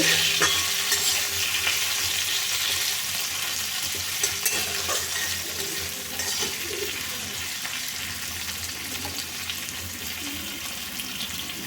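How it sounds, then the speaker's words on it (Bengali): Pumpkin pieces sizzle loudly in a pan while being stirred, with steady frying crackle and occasional scraping clicks of the spoon, no voices. "আর একটু ভেজে নিয়ে দু মিনিটের মতো ঢাকা দিয়ে ভেজে নেব"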